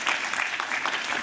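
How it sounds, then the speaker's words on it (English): Audience applause at an infrastructure investment conference as a CEO walks up to the stage, a steady wash of clapping from many hands, loud and continuous, with no talking over it. "Give him a warm round of applause as he comes up."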